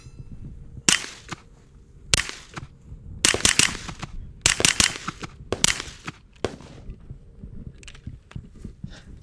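Springfield Kuna firing with an HBI short stroke buffer, a run of sharp close shots in quick single and double bursts over several seconds, loud against a quiet background.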